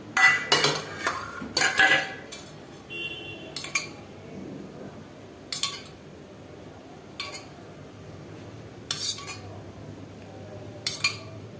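A spoon clinks sharply against a metal pot as curd goes into chicken biryani masala, a few quick clustered taps early on, then separate bright clinks spaced every couple of seconds in a quiet kitchen.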